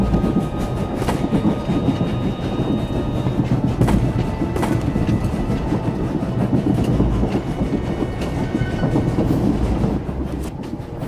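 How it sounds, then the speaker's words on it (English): A moving train in the video game SWTOR on Umbara, a continuous loud rumble with rhythmic clickety-clack of wheels over rail joints and occasional metallic clanks, heard alone without talk. "The train is on the move, and the traitor's on board."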